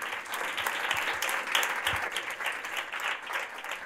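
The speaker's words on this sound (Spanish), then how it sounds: "Yo creo que Elena se merece un aplauso" Audience applause at a foundation's report presentation on digital impact, a steady wash of many hands clapping that fills the room evenly for the full stretch, moderately loud with no one speaking over it.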